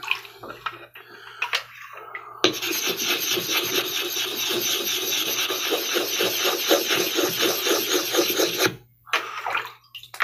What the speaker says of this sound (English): This is my Suhiro prep stone here. It does a fine job of cleaning the stones and getting them flat